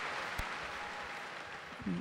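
An audience at a strongman deadlift show applauds a Bulgarian lifter after a failed pull, a short, steady wash of clapping from a crowd that sounds somewhat distant.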